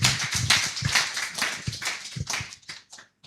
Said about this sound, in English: So can we all give them a round of applause?